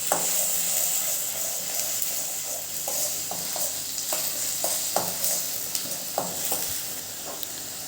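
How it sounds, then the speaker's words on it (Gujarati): Onion paste sautés over a low gas flame with a steady hiss, broken by a series of light taps and scrapes from a spatula against the pan. It is heard up close, without any talking. "1 મોટી ડુંગળીની પેસ્ટ, ગેસની ફ્લેમ સ્લો રાખીને એને થોડી સાંતળી લેવાની છે"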